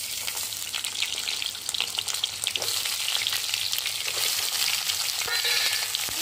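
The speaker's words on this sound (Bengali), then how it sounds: "হালকা একটু ভাজা ভাজা করে নেবো।" Ridge gourd frying lightly in mustard oil with split green chillies and nigella seeds, a steady close sizzle with occasional stirring scrapes and clicks, no voices.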